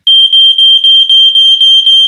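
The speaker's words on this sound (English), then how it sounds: "If the smoke alarm detects smoke from a fire, it makes this noise." A smoke alarm shrieks with a very loud, piercing electronic tone, pulsing in quick, regular beeps that continue without a pause.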